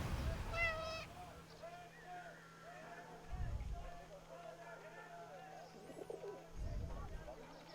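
In the wartime video game 11-11 Memories Retold, a cat gives a few short meows amid soft bird coos and chirps, faint and close, while a voice talks intermittently underneath.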